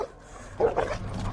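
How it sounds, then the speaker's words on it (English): A dog gives one short, close bark amid a rough, noisy outdoor background, a brief gruff yelp as aggressive dogs flank a person. "I can tell by the sound of their bark that they are ready to attack."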